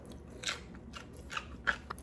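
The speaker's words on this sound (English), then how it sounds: "That crunch" Close, crisp bites and chews into a vinegar-dressed Southern cucumber salad, with four or five distinct crunches spaced a fraction of a second apart over quiet background.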